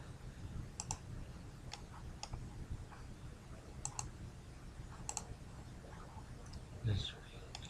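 Computer mouse clicking while working in AutoCAD software: a series of quiet, sharp clicks spaced irregularly over a low steady background hum, with a brief louder rustle near the end.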